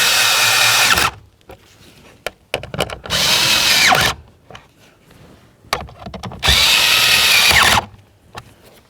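A power drill snugs three blower motor mounting screws on a 2007-or-later Toyota Tundra: three loud, close whirring bursts of about a second each, with quiet handling clicks and knocks between them.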